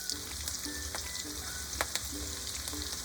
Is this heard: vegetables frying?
yes